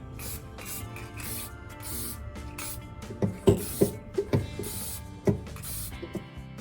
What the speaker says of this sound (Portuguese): E aí eu uso o verniz spray.